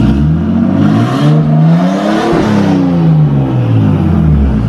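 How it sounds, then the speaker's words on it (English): A car being revved hard through a throaty, loud exhaust that is being considered for straight piping, its pitch rising and falling in repeated pulls over a steady engine drone, no talking. "All right, time for some revs."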